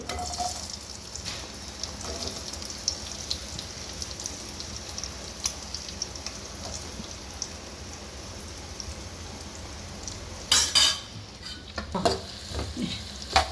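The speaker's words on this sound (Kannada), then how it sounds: "ಇದು ಈರುಳ್ಳಿ ಒಂದು ಸ್ವಲ್ಪ ಬ್ರೌನ್ ಕಲರ್ ಆಗೋ ತನಕ ಫ್ರೈ ಮಾಡ್ಕೋಬೇಕು" Sliced onions frying in a spoon or two of oil, a soft, steady sizzle heard close up, with louder bursts of stirring and scraping near the end.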